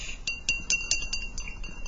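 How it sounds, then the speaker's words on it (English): A paintbrush rinsed in a glass water jar during acrylic painting, with a quick series of bright clinks as the brush taps against the glass, close and fairly clear. "I'm going to rinse my brush"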